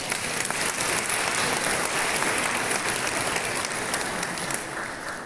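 Concert audience at a Christmas and New Year concert giving sustained, dense applause, loud and even from start to finish, easing slightly in the final moments.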